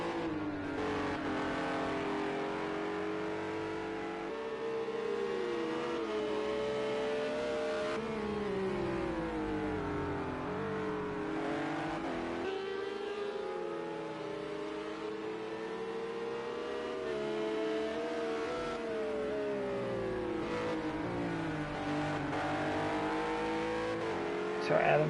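Race cars lapping Watkins Glen in Project CARS 2, with a steady, loud engine drone rising and falling through gear changes as the cars accelerate and brake, continuous throughout with a commentator talking over it.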